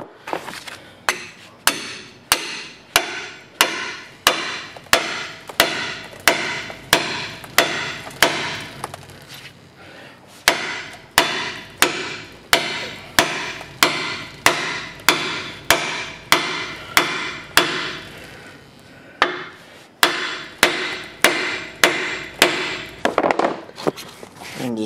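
A hammer pounding a pickle fork ball joint separator into a car's steering knuckle, sounding as loud metallic strikes at a steady rapid rhythm that keep going with short pauses, close up and with no talking.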